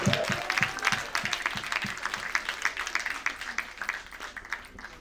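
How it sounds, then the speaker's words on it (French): Audience applause at a French event as a guest is invited onto the stage, many hands clapping in a fairly rhythmic, close patter that gradually thins out toward the end. "On l'accompagne avec vos applaudissements."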